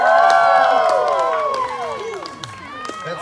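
A crowd at a Hawaiian luau cheers and shouts over a sustained, bright wash of clapping, voices rising and falling loudly together while the noise gradually tapers.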